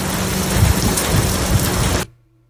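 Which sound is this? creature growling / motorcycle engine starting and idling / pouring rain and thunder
pouring rain and thunder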